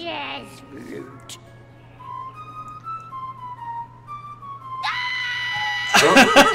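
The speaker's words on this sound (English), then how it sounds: "oh, that scream" A loud played-back scream bursts in near the end, harsh and piercing after a quieter stretch of high tonal sounds and talk on a podcast show.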